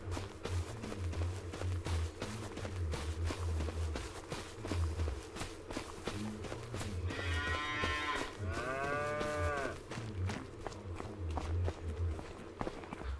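Cows low in a barn in a farming simulator game, with two drawn-out moos in the middle standing clearly over a constant rumble of shuffling hooves and barn noise.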